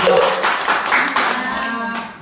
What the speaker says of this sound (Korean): 열강을 해주신 이철영 교수님께 다시 한번 큰 박수 부탁드립니다